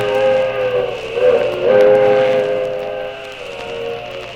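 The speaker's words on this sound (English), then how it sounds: "I'd get aboard that train if it weren't so slow" A train rumbles along with sustained whistle-like tonal hums on a 1974 radio drama record, steady and moderately loud, no voices present.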